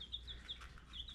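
White Cochin chicks kept indoors in a living room give a run of high, thin peeps, several short chirps spaced across the moment, close and fairly clear over a low room hum.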